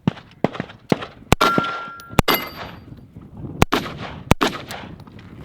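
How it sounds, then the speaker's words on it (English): AR-15 rifle gunshots at an outdoor range, several sharp loud cracks spaced irregularly with ringing echoes and tails, a few fainter distant shots between them. "Brown Man taking a shot now."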